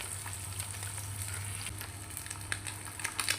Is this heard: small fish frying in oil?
yes